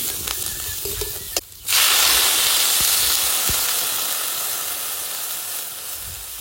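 Water poured into a pan of vegetables fried with ginger paste for a jute-leaf, prawn and green papaya curry bursts into a loud, steady sizzle after a brief pause, then hisses on evenly and close by.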